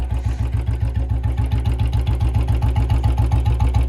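A Royal Enfield Bullet BS6 motorcycle engine idles steadily up close, its loud single-cylinder thump pulsing in an even, rapid rhythm throughout with no talk over it.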